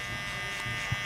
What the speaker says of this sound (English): open up my lever on my clipper, and get this first panel down